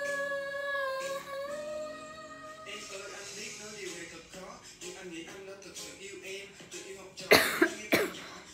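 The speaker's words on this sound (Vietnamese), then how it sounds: "Ôi chị ho quá." A woman teaching an online literature lesson coughs twice, sharply and close, near the end after a stretch of her talking over faint background music.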